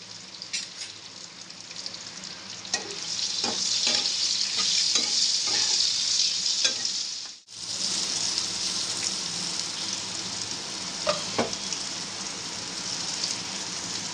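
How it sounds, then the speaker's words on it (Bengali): Eggplant frying in a pan, a loud continuous sizzle with scattered clicks of stirring that drops out briefly midway, then goes on more quietly. "আমার বেগুন ভাজাটা হয়ে গেছে, এবার নামিয়ে নেব।"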